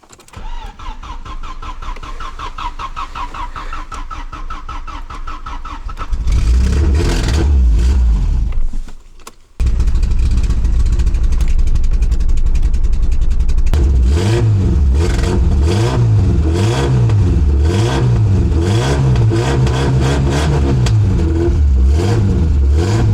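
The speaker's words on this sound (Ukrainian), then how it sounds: "На газу завів." A Peugeot 206 running on gas cranks with a rapid starter whir, catches and roars, stumbles briefly, then revs loudly in repeated rising and falling pulls close by.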